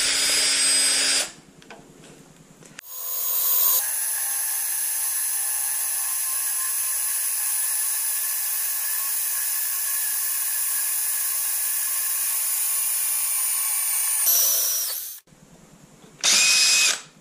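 A power drill drilling a hole in a coilover whines at a steady, high pitch for about ten seconds, close and loud, between shorter bursts of mechanical noise.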